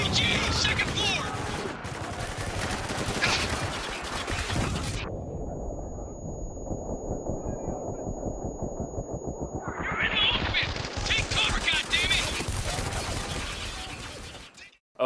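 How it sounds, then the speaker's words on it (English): M249 light machine gun firing in the video game Spec Ops: The Line, dense rapid bursts of gunfire with loud crackling, a muffled low stretch in the middle, then full bursts again, with voices under the shooting. "we have the M249 light machine gun"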